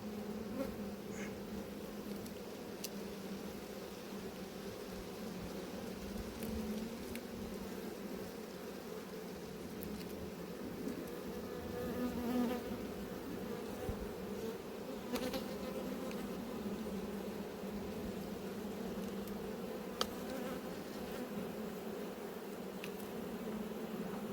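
Honeybees at an apiary hive buzzing in a dense, steady drone throughout, close and continuous, with wasps around the hive and no voices.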